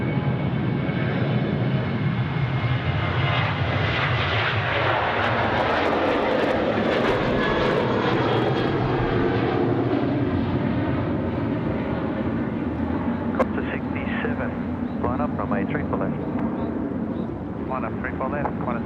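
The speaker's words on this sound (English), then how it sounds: "that was the One World's A330 getting ready for takeoff there at runway left" At Sydney Airport, a Qantas Airbus A330 in oneworld livery sits with its jet engines running before takeoff. The loud, continuous roar holds steady, then eases near the end, with some voices and a little wind noise.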